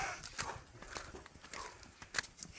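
A horse carrying a load on a mountain trail clops along with uneven, moderately close hoofbeats against a faint outdoor background.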